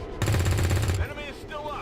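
Video game XCOM 2 combat: a quick rattling burst of gunfire for about a second, followed by fainter whooshing game effects.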